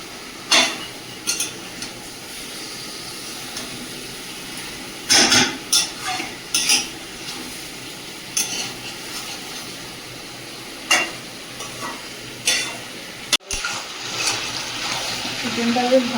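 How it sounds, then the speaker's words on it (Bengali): Chicken browning in a pan is stirred with a utensil, making soft sizzling under intermittent scraping and clinking strokes at irregular moments, and people talk nearby. "চিকেনটা বেশ ভালো করে কষিয়ে নিচ্ছি"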